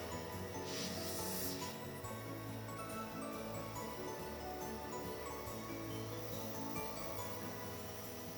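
Airbrush spray gun loaded with royal red paint hissing steadily over a stencil, a continuous close airy spray with a brief louder burst early on.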